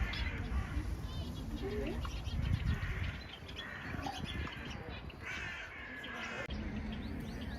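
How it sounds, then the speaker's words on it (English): Birds in a public aviary in Maastricht, including canaries, feeding on broccoli, with repeated loud caws and chirps close by over steady outdoor background noise and some talking. "here canaries, and other birds are eating broccoli. They have one of those public aviaries here in Maastricht."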